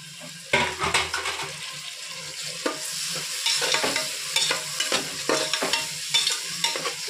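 Tomatoes being stirred in a frying pan, a spoon scraping and clinking against the metal in irregular strokes over a steady close sizzle, with no talking.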